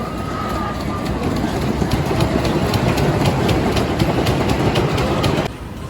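A rumbling, clattering ride on the Wild Beast wooden roller coaster at Canada's Wonderland, a steady heavy roar of wheels on the wooden track that drops off abruptly at the end.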